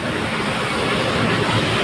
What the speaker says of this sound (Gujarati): જો ભાઈ જો વરસાદ છે ને